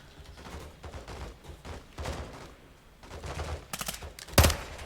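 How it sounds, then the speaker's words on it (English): Rapid SMG gunfire in Modern Warfare 2, bursts of automatic fire of moderate loudness scattered through the clip, with a sharper, louder burst near the end. "I guess it's an SMG."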